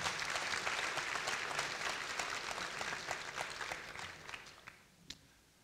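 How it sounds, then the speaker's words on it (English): A crowd at a youth sports coaching awards ceremony applauds finalists, dense clapping that starts full and gradually thins and fades toward the end, with a few last scattered claps. "How about a big round of applause for these seven finalists?"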